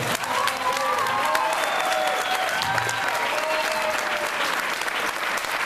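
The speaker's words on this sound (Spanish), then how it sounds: "me gustaría que le dierais un aplauso" A school concert audience in Spain applauds steadily and fairly loudly, a dense wash of clapping held throughout, with a few voices and a faint tone beneath it.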